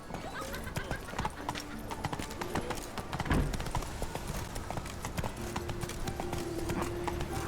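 Horse hooves clip-clop steadily on the ground in the video game The Witcher 3, a continuous brisk rhythm of many hoofbeats at moderate distance, with a horse's whinny mixed in and someone speaking briefly over it.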